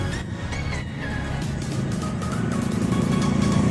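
Road traffic passes by in a steady stream, a continuous engine rumble and tire roar that builds slightly louder toward the end, with no voices.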